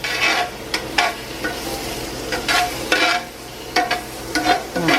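Sliced zucchini sizzles in olive oil in a pan while being stirred, producing repeated scraping, stirring strokes over a steady frying hiss, close and fairly loud.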